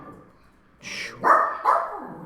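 A dog barks twice in quick succession, close and fairly loud, after a short rising whine, during a Polish podcast episode recorded away from home.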